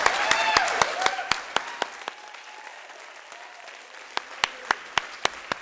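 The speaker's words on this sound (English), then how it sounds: "all of our presenters, one more huge round of applause" Audience applause for a group of presenters at an Ignite Carroll event, a dense burst of clapping that thins and fades, then a few loud, distinct claps near the close, with crowd chatter mixed in.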